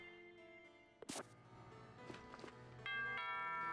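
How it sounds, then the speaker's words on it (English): A two-tone doorbell chime rings inside the Pokémon Sword video game, one sharp ding-dong standing out against steady game music that continues around it. "Ding dong."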